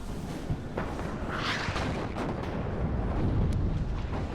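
120 mm mortars firing in the WARNO real-time strategy game, a dense rumbling barrage of booms and blasts overlapping steadily without a break, loud and continuous with a brighter burst partway through.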